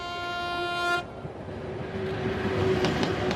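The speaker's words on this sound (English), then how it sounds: "So this is the train that model scouts from all over the world must take in search of fresh, new Siberian faces." Passenger train running along the Siberian rail route, a sustained horn blast with steady harmonics for about a second, then continuous rumbling wheel and carriage noise with faint squeals, loud and close.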